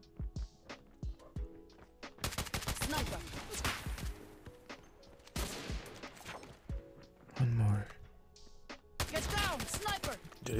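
Odin rifle fire in Call of Duty Mobile: several loud bursts of rapid automatic shots separated by short pauses, with game effects between them and no talk.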